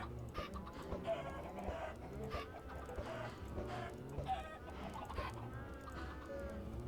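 A flock of chickens clucking loudly and continuously, many birds calling over one another in a busy, crowded chorus, with an occasional crow mixed in.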